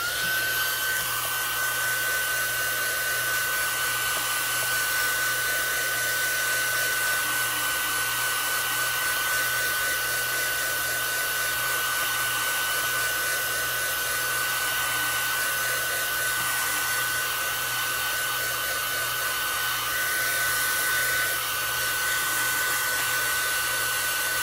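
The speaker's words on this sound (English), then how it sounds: "I'm gonna heat set that again." Steady, loud whir of a heat tool blowing hot air to set embossing powder on a stamped card, running continuously without pause and with no talking.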